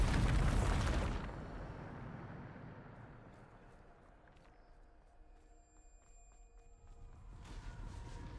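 Bombarda spell explosion in Hogwarts Legacy: a loud, close blast fills the first second, then fades into quieter game ambience with faint tones, and a second rumbling burst builds near the end.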